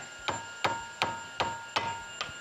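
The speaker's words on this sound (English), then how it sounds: "Break loose a lot easier if you tap them with a hammer." A hammer taps drive shaft bolts on a Foxbody car six times at an even pace. Each metallic strike is close and ringing and fades briefly before the next.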